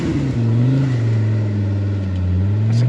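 A four-wheel-steer off-road car engine revs up and holds a steady, droning mid-pitched note, rising slightly and then settling, loud and close with no talking.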